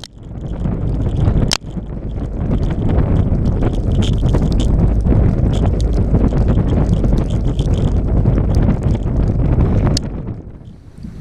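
Strong wind in a winter blizzard over a partly frozen lake, a roaring, steady buffeting gust on the microphone that holds loud for about ten seconds before easing.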